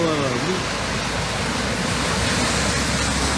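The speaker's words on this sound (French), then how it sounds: "Cayenne près des Palmistes, c'est totalement inondé" Floodwater after heavy rain rushes through a submerged street in Cayenne, French Guiana, near Les Palmistes, a loud, continuous roar of flowing water with no pauses.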